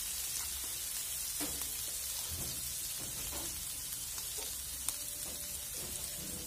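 Green chili paste sautéing in a pan for sabudana khichdi, a soft, even background sizzle with faint intermittent spoon scrapes and taps, fairly quiet and without talk.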